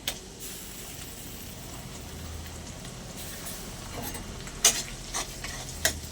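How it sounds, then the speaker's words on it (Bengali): Chopped tomato goes into a pan of frying ginger, garlic and onion, giving a soft, steady sizzle with a few sharp clicks and taps near the end, close by and moderately quiet. "এবারে দিয়ে দেবো টমেটো কুচি"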